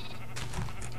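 Sheep bleats from a video game, where small blue and red sheep wander a farm area; a short burst of bleating sounds clearly over a steady low background hum.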